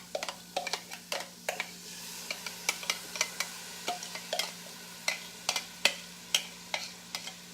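Onion caramelizing in a pan for beef stroganoff, a soft steady sizzle under frequent small ticking pops and clicks, close and fairly quiet.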